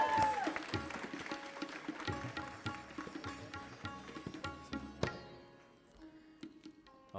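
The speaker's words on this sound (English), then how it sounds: "Big round of applause." A wedding crowd gives a big round of applause, dense and fairly quiet clapping that carries on for several seconds with a few sharp louder claps standing out.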